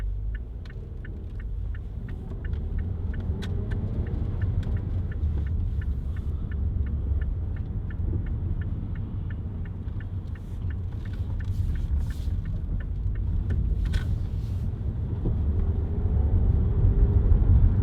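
A 2007 Mazda 5 1.8 TS2 five-door people carrier cruises up the motorway, giving a steady low engine and road rumble with tyre roar inside the cabin and a faint rhythmic ticking, no talking.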